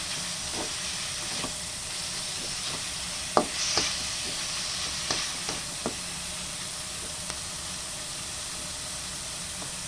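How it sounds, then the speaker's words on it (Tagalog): Mung beans cooking in a pot and being stirred, a steady steamy hiss with scattered scraping clinks of the spoon against the pot, close and without talk. "Haluin lang natin mga kapalangga."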